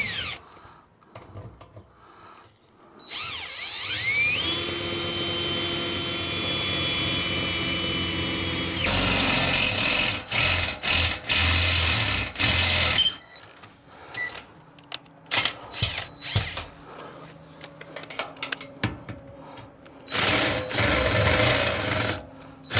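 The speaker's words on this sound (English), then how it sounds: "Now I'm going to go ahead and drill and bolt in the back" A power drill bores through a steel boat trailer frame for bolt holes, whining loudly in a long sustained run, then in shorter bursts and intermittent spurts with clattering in between.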